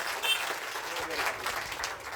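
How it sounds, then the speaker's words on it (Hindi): An audience at a Hindi-language gathering in Bhopal breaks into loud applause, a thick continuous clatter of many hands lasting the whole moment, with some murmuring mixed in. "तो एक बार जोरदार ताली हो जाए कि हम सब लोग इकट्ठे कर सकते हैं"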